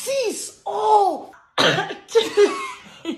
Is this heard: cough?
yes